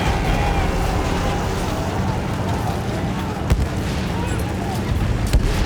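Dull booms of video game artillery and scattered bursts of gunfire rumble under a dense battle din, with a distant thud or two standing out.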